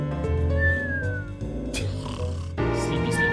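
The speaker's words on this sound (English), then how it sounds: "Sleepy, sleepy cat." A cat meows in a drawn-out, rising and falling call, then meows once more after a short pause.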